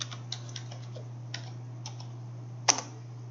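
Login credentials being typed on a computer keyboard, a sparse run of light clicks with one sharper, louder keystroke near the end, all fairly quiet over a steady low hum.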